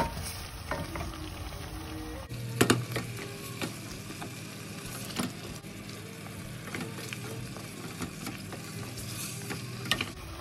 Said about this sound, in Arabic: ما كنحمصوا شويه اللحم والبصله والثومه